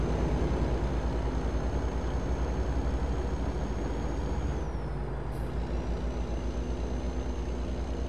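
Air brake hiss from a heavy truck in American Truck Simulator, a steady loud rush of air over a constant low engine drone lasting the whole stretch, with a brief tonal dip near the middle.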